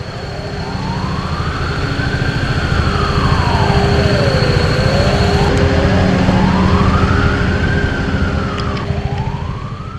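Commemorative sirens sound at 09:05 for Atatürk in Rize, a loud wailing tone rising and falling in slow sweeps over steady background hum, continuous and without talk.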